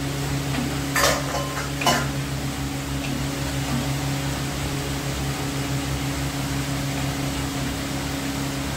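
Egg masala simmering in a pan after hot water is added, giving a steady soft bubbling hiss over a constant kitchen hum, with two brief scraping clinks near the start.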